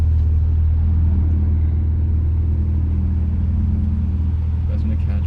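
A BMW 1M being driven in the rain, its engine a loud, steady low rumble close by, holding a constant drone with a slight rise near the end.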